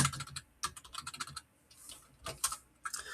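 Someone typing a formula on a computer keyboard, bursts of quick close key clicks separated by short pauses, with a few isolated taps near the end.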